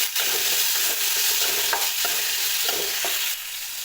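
Tomatoes frying in a pan, sizzling continuously and loudly, with a few soft stirring scrapes breaking through the steady hiss; no voices.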